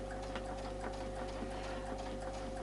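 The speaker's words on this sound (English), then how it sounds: "we're just going to stitch across here." A sewing machine stitches cross hatching along a ruler with an arc template, giving a steady, even mechanical hum with a fine rapid patter, quiet and continuous throughout.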